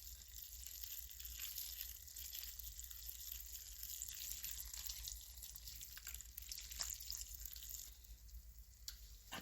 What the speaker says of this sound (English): This is hot boiling water. This is my broth.